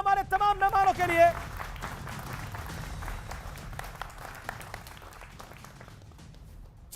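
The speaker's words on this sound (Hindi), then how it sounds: "तो जोरदार तालियां हमारे तमाम मेहमानों के लिए।" A TV debate studio audience breaks into applause for the panel guests, a dense burst of clapping that rises strongly then thins and fades over several seconds, with a host's voice heard at the start.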